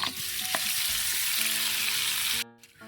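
Duck pieces with garlic and onion sizzling loudly in a pan while being stirred, a steady close frying hiss with a few scrapes, dropping suddenly near the end.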